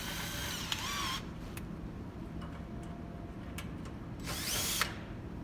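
A cordless power driver with a 1/4 inch bit backs screws out of a Marquis II gas fireplace burner and grate assembly: two short whirring bursts at the start and end, with faint ticks and clicks between, close over a steady hum.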